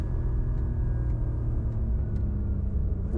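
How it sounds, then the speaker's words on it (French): Inside a Porsche 911 GTS T-Hybrid of nearly 400 horsepower, the engine gives a steady, deep cabin rumble that holds constant and loud, with no voices over it. "Le moteur est plus présent dans la voiture."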